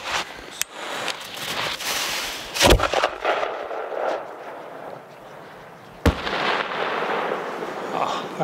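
Large 4-inch aerial fireworks shells burst outdoors in a blizzard, giving sharp, loud booms and crackling tails in a close sequence, with a few prominent bangs and fainter pops between them.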